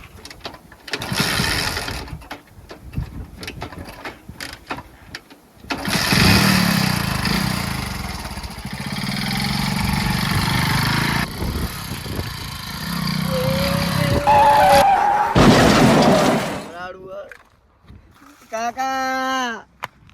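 A motorbike engine runs with a rough, buzzing drone that rises and holds for several seconds amid a comedy skit, with people talking and shouting around it.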